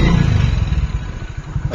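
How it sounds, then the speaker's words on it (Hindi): A motorcycle is ridden into a home garage late at night, its close, low engine rumble running steadily with a rough, pulsing chug as it slows to a stop. No one speaks. "गैराज में जा रही है बाइक"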